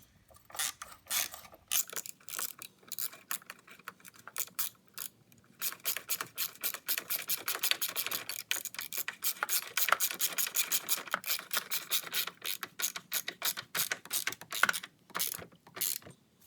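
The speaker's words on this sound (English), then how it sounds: "And now with our 12mm, we can just tighten it up." A 12mm ratchet wrench tightens the battery hold-down on a 2011–2017 Hyundai Elantra, giving long runs of fast, close pawl clicks that speed into a dense steady chatter with brief pauses between strokes and no voices.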